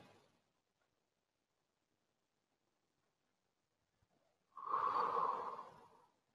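One slow, deep exhalation during a meditation session, a single soft airy breath rising after a long near-silent pause, with a faint breath fading at the very start.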